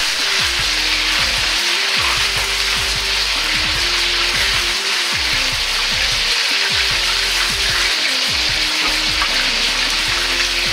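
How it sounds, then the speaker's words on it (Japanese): Chicken pieces for karaage deep-frying a second time in hot oil over high heat, a steady loud bubbling sizzle that holds evenly throughout with no talking. "さらに油に入れ二度揚げします。 火を強火にして表面をカリッとさせます。"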